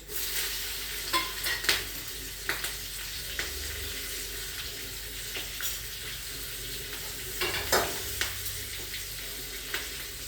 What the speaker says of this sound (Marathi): आणि फोडणी चांगली तडतडून झालेली आहे